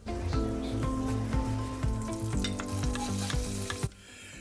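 Olive oil and butter sizzle in a big saucepan over medium-low heat, a dense close crackling fry with bubbling pops running continuously, no talking.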